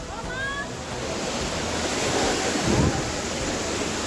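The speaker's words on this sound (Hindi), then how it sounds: "ये झरणा ये पानी" Water rushes down a mountain waterfall in a steady, loud, broadband roar that continues unbroken, with faint voices barely present beneath the flow.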